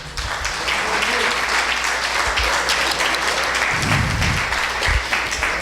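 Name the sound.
church congregation applauding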